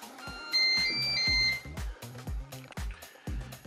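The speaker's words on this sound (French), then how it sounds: "J'allume mon cookéo." A Cookeo multicooker powering on gives a bright electronic start-up melody of sustained beeps, loud and close, followed by a few soft low knocks and clatter.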